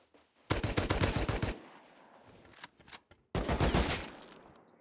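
Rapid gunfire from a first-person shooter video game: a dense burst of fast, loud shots, a quieter stretch of faint action, then another loud sustained volley.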